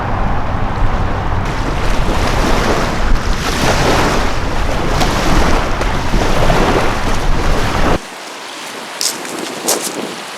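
Loud rushing surf and wind buffeting the microphone for several seconds while carp fishing on a spring morning, then abruptly cutting to quieter water and a few faint blackbird calls.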